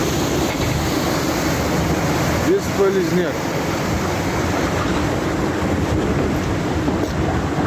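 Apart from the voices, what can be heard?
floodwater gushing through breached dam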